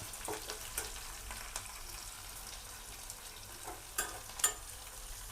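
Curry leaves fry in hot oil for onion chitranna, a soft steady sizzle with occasional crackles and light pops, fairly quiet and with no voices.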